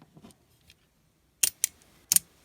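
A few sharp, close plastic clicks in quick succession from the weak lock of a Master Diabolos Beyblade being turned, with faint soft handling noises in the quiet before them.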